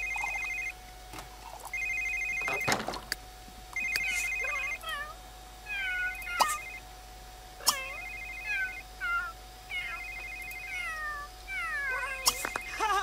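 A telephone in The Sims 3 rings in repeated short electronic trills, each burst followed by a pause, while a cat meows and chirps between the rings. No one speaks.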